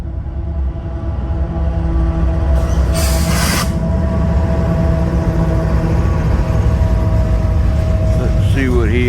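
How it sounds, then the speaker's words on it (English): An intermodal freight train rolls past close by, a steady loud rumble of rail cars and wheels filling the whole stretch, with a brief hiss partway through and a faint squeal near the end. "Alright, this may be my train."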